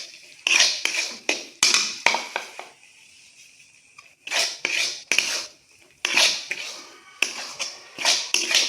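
Grated coconut being stirred with roasted rice flour in a pan, heard as a run of dry scraping and rubbing strokes in short bursts with brief pauses between them, close and fairly clear, with no talk.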